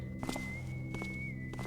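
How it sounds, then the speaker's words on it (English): Soft footsteps in the stealth game Thief (1998), a few scattered muffled taps over a steady ambient hum and a thin high tone, fairly faint and distant. "Hearing footsteps from both ends"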